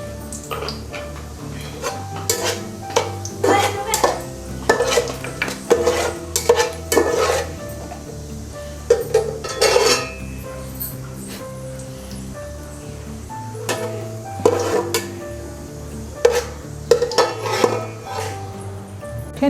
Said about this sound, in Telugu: నెక్స్ట్ కొంచెం జీలకర్ర వేస్తున్నాను నేను తాలింపులో